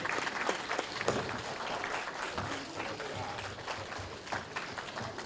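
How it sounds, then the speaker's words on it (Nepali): Audience applause at a Nepali album launch event, a dense steady wash of clapping hands holding for several seconds with scattered sharper claps and faint crowd murmur beneath. "यो ताली बजाउन कन्जुसाइ नगर्नु होला"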